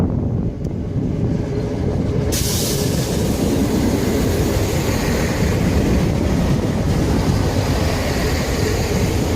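A British Rail Class 165 passenger train pulls away from Southall station, a loud, steady rumble of engine and wheels filling the whole stretch, with a brighter rush of noise building partway through as it gathers speed.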